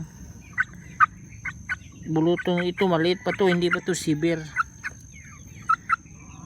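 A rooster gobbles in a loud rattling burst near the microphone, with a person talking over and around it during treatment of a gamefowl with pox.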